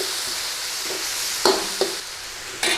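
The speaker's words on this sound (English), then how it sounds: "Give that a little quick stir in, we don't want to burn any of this." Thai beef and banana pepper stir-fry sizzles loudly in the pan, with a few sharp scrapes and clanks as it is quickly stirred.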